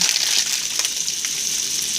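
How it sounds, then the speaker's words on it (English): Steady, loud hiss of food frying in a hot pan at about the right temperature, a continuous crackling sizzle with a few brief pops and stirring scrapes, no voices. "Just let that just kind of sizzle on."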